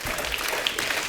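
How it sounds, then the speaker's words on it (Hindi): Studio audience clapping on a Hindi comedy talk show as a guest is welcomed, a brief dense burst of steady applause close by. "एक बार जोरदार ताली अक्षय बाजी के लिए।"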